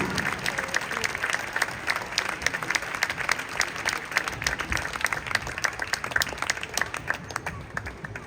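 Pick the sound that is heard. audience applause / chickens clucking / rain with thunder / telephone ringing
audience applause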